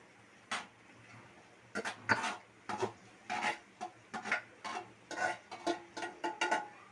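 Chopped onions go into a pan and are stirred, a series of close scraping, rasping strokes of a spoon against the pan coming in an uneven rhythm after a brief quiet start.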